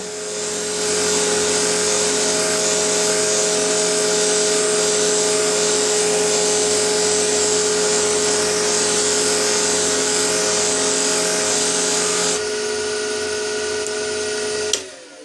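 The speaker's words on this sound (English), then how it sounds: "And the finish on the white cotton wheel" A pen blank being buffed on a white cotton wheel, a loud steady motor whine with a constant hum that shifts pitch near the end before stopping.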